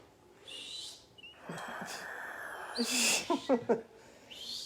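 An owl gives a series of short, raspy calls and chirps, fairly close, with some background noise between them.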